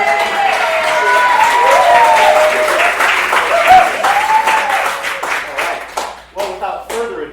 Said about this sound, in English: I think we should deserve another round of applause for recognition